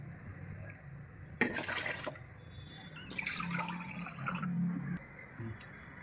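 Three cups of water are poured into a pot for prawn biryani, heard as two splashing, gushing pours a few seconds apart, close and fairly quiet, with no talking.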